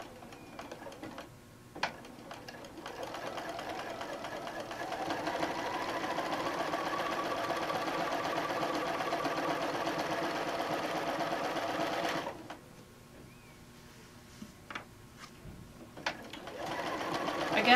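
A sewing machine runs a long, steady burst of stitching across a quilted tote bag, with a few isolated ticks before it starts. It stops abruptly near the end, leaving quiet handling clicks. Close and continuous.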